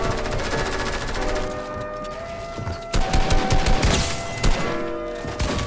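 Rapid SMG fire in a fast-paced online shooter, with loud, dense bursts of shots that grow heavier and punchier in the second half, alone with no talk.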